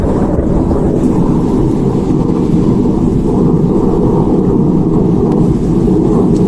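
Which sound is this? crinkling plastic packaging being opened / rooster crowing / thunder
thunder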